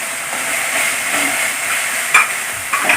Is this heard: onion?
yes